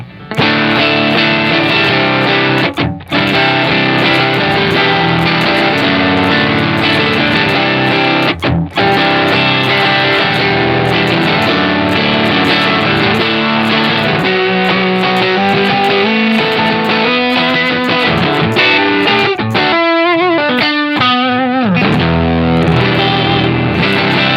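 Electric guitar on the bridge pickup through an Earthquaker Devices Special Cranker overdrive pedal plays loud distorted chords and riffs, with brief pauses and a rapid stuttering passage near the end, no voices.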